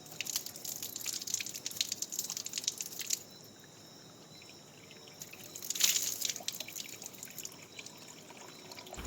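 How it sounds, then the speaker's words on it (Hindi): Cold water splashes and trickles as a face is washed on a terrace, with two bursts of running, dripping water separated by a quieter pause, close by and without speech. "यहाँ आकर सबसे पहले ठंडे पानी से अपना मुँह धोती हूँ"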